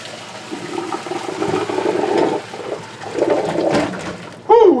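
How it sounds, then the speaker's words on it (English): Boiled potatoes and their hot water are poured from a pot into a kitchen strainer, a rushing, splashing pour that swells and fades in two bursts before a brief clatter at the end. "So these are just about ready to take out, pour it in the strainer."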